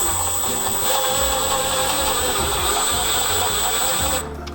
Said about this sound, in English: the first one I'm gonna mount through is this front screw